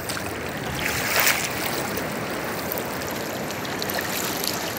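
Steady broadband wash of ocean surf rolling onto Bagasbas Beach, Daet, Camarines Norte, Philippines, constant and fairly loud with a slight surge partway through, no voices.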